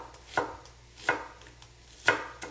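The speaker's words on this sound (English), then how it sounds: "I'm going to cut a little bit of onion in this stir fry right here." A knife chops onion on a cutting board for a stir fry, three crisp separate strokes spaced about a second apart, close and fairly quiet, with no talking.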